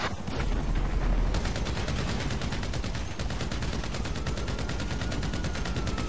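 Rapid automatic gunfire from Grand Theft Auto 5, a dense, continuous burst of shots running loud and steady throughout with no pauses.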